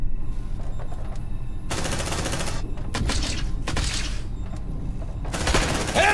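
Gunfire in the video game Aliens: Dark Descent, with loud, rapid automatic bursts repeated in several long volleys separated by short, quieter gaps.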